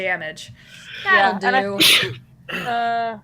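A single sharp sneeze bursts out in the middle of a tabletop role-playing game session, close and loud, with several people talking around it before and after.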